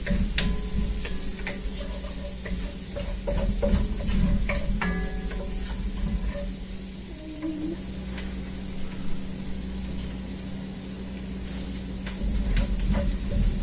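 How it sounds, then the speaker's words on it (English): Garlic and onions with fresh oregano cooking down in a pot for spaghetti and meatballs sauce, a steady low sizzle with occasional soft ticks and stirring clinks, close and continuous. "we're just going to cook this for a little bit until the garlic and the onions cook down"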